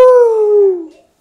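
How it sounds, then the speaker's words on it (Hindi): A dog in a Hindi comedy film gives one loud, close, drawn-out howling whine that falls in pitch and fades out after about a second. "क्या हुआ, क्यों भौंक रहा है?"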